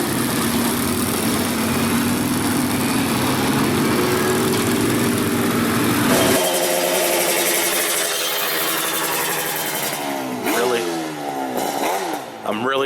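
Motorcycle engines idle loudly nearby at the start of Highway 129's Tail of the Dragon, 318 curves in 11 miles, with a steady throaty rumble, then revving and shifting engine tones as the sound changes partway through.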